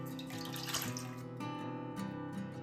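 Water splashing and running as a face is washed with birch sap indoors, a continuous close wet rush with small splashes, no talking.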